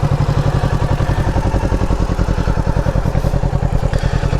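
A Kawasaki Ninja 650 motorcycle engine runs at a steady idle, with a loud, close, even rapid pulsing throb that holds throughout and has no speech over it.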